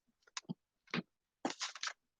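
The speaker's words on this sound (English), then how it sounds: "if you hear someone crunching ice" Someone crunching ice in their mouth close to the microphone, a few sharp crunchy bites in short bursts separated by silence.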